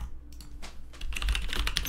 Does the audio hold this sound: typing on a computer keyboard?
yes